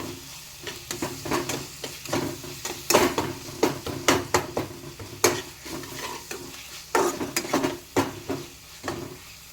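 A spoon stirs cumin and coriander powder into a sizzling curry in a pan, with steady rhythmic scraping strokes and sharp knocks against the pan over a constant frying hiss.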